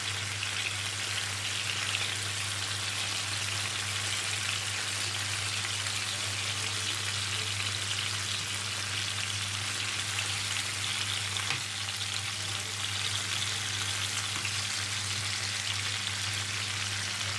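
Chicken pieces frying in a pan on medium heat: a constant loud sizzle and crackle with a low steady hum underneath, close and uninterrupted throughout.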